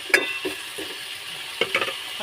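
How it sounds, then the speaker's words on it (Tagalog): Tilapia sautéing in a pan, with a steady sizzle and a few sharp utensil scrapes and stirring clinks, close up with no voices. "Magigisa tayo ng tilapia."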